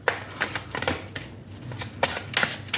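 A deck of tarot cards is shuffled and cards are pulled out by hand, a close series of quick papery riffles and flicks in irregular bursts with soft taps between.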